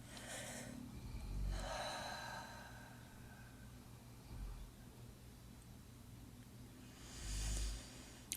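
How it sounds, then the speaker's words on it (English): Slow, deep breaths during a tuning fork sound healing session, three long audible inhale and exhale swells spaced several seconds apart, close and soft over a quiet low hum. "just take a few deep breaths with me"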